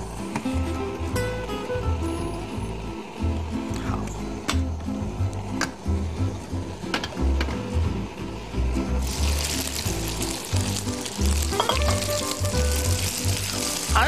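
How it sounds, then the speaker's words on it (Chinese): Small soaked dried fish frying in a little hot oil in a wok, a continuous crackling sizzle with scattered pops and sharp ticks, growing brighter and more hissy toward the end, with no voices. "我们现在是要把它煸香， 首先呢是煸除它的水分"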